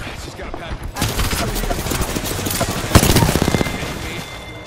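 Rapid bursts of gunfire from the video game Apex Legends, a loud sustained volley of repeated shots building to a sharp cluster near the end, with game voice lines underneath.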